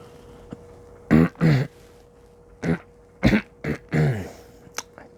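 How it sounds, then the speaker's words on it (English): A male reader clears his throat and coughs in a quiet room, about six short, loud bursts spread unevenly over several seconds with silence between them. "throat clears, coughs."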